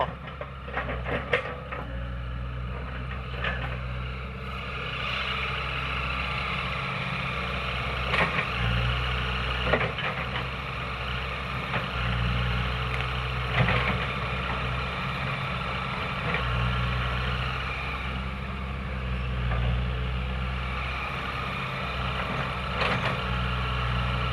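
A farm tractor's diesel engine runs steadily at idle throughout, a constant low rumble with faint clattering and occasional knocks over the top, no talk.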